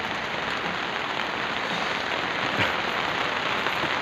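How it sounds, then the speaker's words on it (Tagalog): Steady rain hisses continuously, a dense even wash of falling water with no pauses or voices. "Yun na mga idol, umuulan na."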